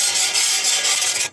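The cut edge of a bathroom tile being rubbed smooth during tile fitting, a continuous loud, coarse abrasive rasp held for just over a second before stopping abruptly.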